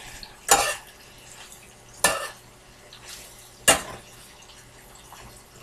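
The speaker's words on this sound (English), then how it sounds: "Now, stir that up real quick." A spoon stirring a TV dinner in a pan, three sharp clanking scrapes spaced about one and a half seconds apart, close and loud, with quiet background between them.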